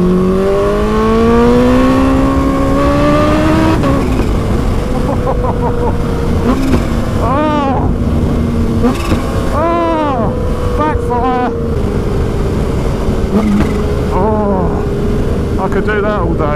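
Tuned Kawasaki H2 supercharged motorcycle accelerating on the road in second gear, its engine note climbing steadily, then crackling pops and rising revs repeating loud and close under wind rush, with a rider talking over it.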